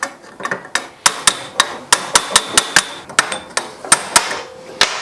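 Aluminum sheet metal being hammered into a die at a metal shaping meet: a steady run of about fifteen sharp, ringing blows at an uneven rhythm, close up and loud, with no talking.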